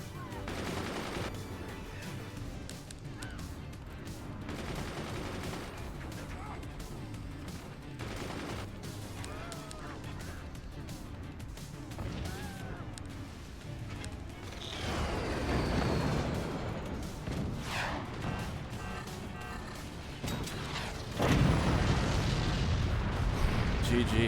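Downward-angled cannons in the Forts game fire in a sustained barrage, with dense overlapping booms and rattling blasts that swell louder toward the end.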